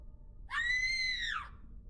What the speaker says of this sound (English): There was a scream, somewhere off in the distance.